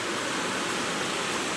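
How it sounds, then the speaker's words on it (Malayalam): A forest stream swollen by light rain rushes over rocks, a steady dense broadband wash of water, close and continuous with no voices. "തലതല്ലി ഒഴുകുന്ന കാട്ടരുവി"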